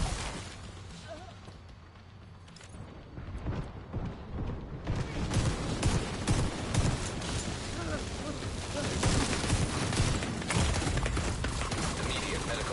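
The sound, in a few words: gunfire in the video game The Division 2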